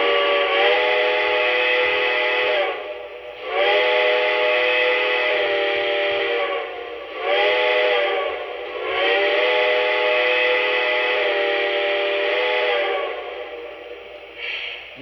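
Lionel model train steam whistle, a loud, close, multi-tone chord sounding in four long blasts separated by brief gaps, with no talking.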